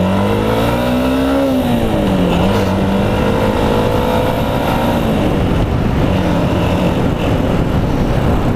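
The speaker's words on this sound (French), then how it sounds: "Là je fais le passage de vitesse" A small A1-licence motorcycle engine revs loud and close, climbing in pitch, dipping briefly at a gear change, then droning steadily on.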